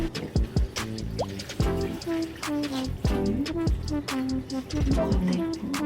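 Water pours and drips unevenly into a container while making white kimchi, with splashes and gurgles, along with clinks and some background music.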